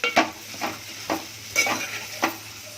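Onion masala being stir-fried, a soft sizzle broken by five distinct scraping strokes of a spoon in the pan, spaced about half a second apart.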